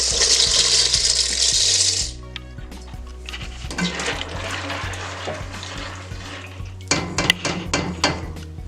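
Shell pasta pours into a pot of boiling water with a dense rattling hiss for about two seconds, followed by softer clinks, stirring and scraping of a utensil against the pot.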